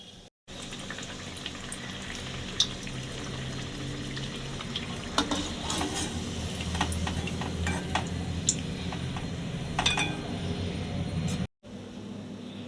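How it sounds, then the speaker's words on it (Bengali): Gur pitha, sweet jaggery dough balls, fry in a pan with a soft, continuous sizzle, broken by a few brief clinks and stirring sounds, fairly quiet overall. "গুড় পিঠেগুলো আমার সব ভাজা হয়ে এসছে,"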